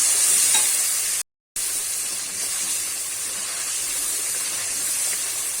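Cumin, turmeric and chilli powder masala sautéing with a splash of water in a pan for paneer masala, a steady hissing sizzle and steam with stirring, close and continuous apart from a brief cut.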